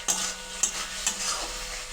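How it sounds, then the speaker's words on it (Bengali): Spice masala with tomato, ridge gourd and potato sautéing in a pan: a continuous sizzle broken by three sharp spoon scrapes against the pan, close and without speech. "ভালোভাবে কষিয়ে নিচ্ছি বন্ধুরা"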